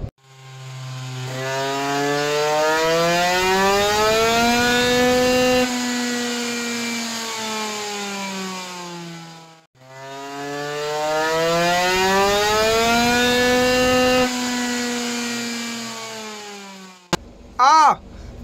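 A scooter two-stroke engine fitted with a 100cc FLR cylinder fires up for its first run, revving loudly in two long sustained rising-and-falling bursts separated by a brief dip, then a short sharp blip at the end.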